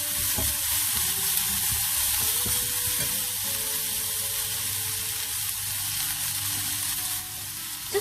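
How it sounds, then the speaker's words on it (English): Onions sautéing with a pinch of salt in a pan for a palak paneer, a steady close hissing sizzle that holds constant throughout with faint scraping underneath. "Just saute your onions for about a minute."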